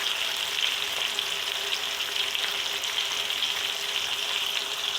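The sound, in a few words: tomatoes frying in a pan for chana pulao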